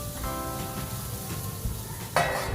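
Soaked chickpeas, green gram, peeled roasted peanuts and vegetables being stirred in a hot pan for a vegetable fry, with steady close sizzling and soft scraping, a sharper burst of frying near the end.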